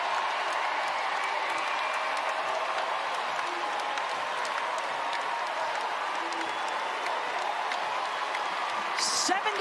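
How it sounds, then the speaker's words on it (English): A sellout basketball crowd at Gampel Pavilion cheers and applauds after UConn's NCAA second-round win over Baylor. The roar is dense and continuous, and a commentator's voice is heard faintly beneath it. "And the sellout crowd on their feet in Gamble."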